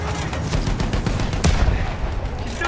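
Field guns firing in Battlefield 1, a dense continuous barrage of booms and gunfire with one sharper blast standing out midway, loud and unbroken throughout.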